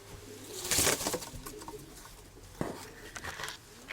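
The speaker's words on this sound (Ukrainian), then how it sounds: "Це голубка" A pigeon makes soft, close sounds with a few fluttering bursts and low murmurs amid light rustling, with no talk.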